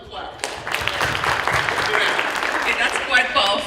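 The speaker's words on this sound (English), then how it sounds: "Now give yourselves a clap." A seminar audience at a study-abroad expert event bursts into steady, dense applause that fills the room throughout, with voices mixed under the clapping.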